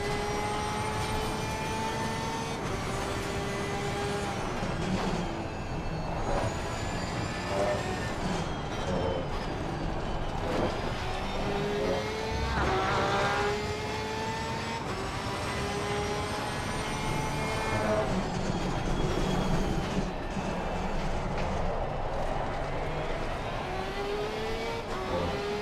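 A Porsche 992 race car engine in Assetto Corsa Competizione, driven on cold tires, roars steadily throughout, its note swelling and dropping as the throttle is repeatedly opened and lifted.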